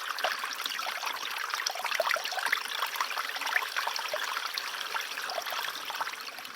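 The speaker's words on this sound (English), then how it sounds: "But the trickling, babbling creek in our Bob Ross episode." A small creek trickles and babbles over stones in a steady, even, moderately faint stream of water with no voices.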